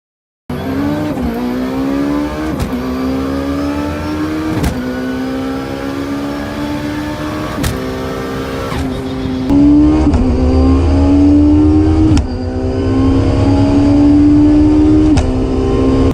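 A sequential-shifting, turbocharged Mitsubishi Evo IX 4-cylinder race car accelerates hard at a drag strip, its engine rising in pitch through several sharp gear changes, loud and close, with no talk.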